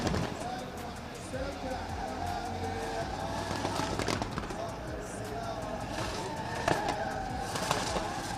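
Nissan S15 and BMW E90 drift cars sit on the starting line at the Oman International Drift Championship, engines rumbling steadily and loudly amid outdoor crowd noise and background voices.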